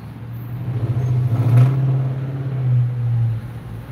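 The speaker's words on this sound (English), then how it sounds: "Cars are out here like it's Friday" Cars driving past on a road, heard as a steady low engine hum that swells as a vehicle passes close by at mid-clip and then fades, with a second, softer swell after it and no talking.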